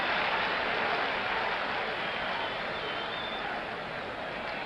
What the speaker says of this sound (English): the applause gets a little louder with every out now